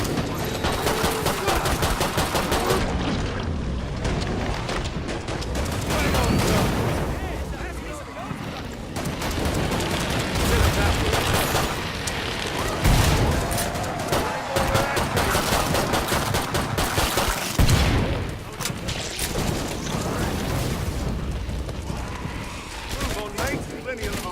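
Heavy gunfire from the Killing Floor 2 video game, played with a demolitionist build: dense rapid bursts and booming blasts go on almost nonstop, loud and close throughout.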